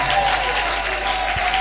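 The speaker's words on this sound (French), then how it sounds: "Acclame très fort." Church congregation applauding during a service, a continuous broad patter of many hands clapping at a steady level, with a faint sustained tone beneath and no clear speech.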